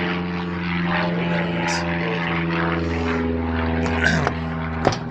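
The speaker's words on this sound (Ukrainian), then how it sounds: "тут літачки такі літають, бачите." Small propeller airplanes fly overhead somewhere south of Calgary, producing a loud, steady engine drone with a buzzing tone that shifts slightly as they pass close by.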